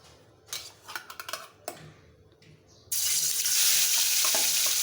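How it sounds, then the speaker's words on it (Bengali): Marinated tilapia fish hitting hot oil in a pan, preceded by a few clinks and stirring taps, then a loud, steady broadband sizzle that starts abruptly and holds on, close up with no talking. "এখন প্যানে দিয়ে দিছি তেল মাছটাকে ভেজে নিব"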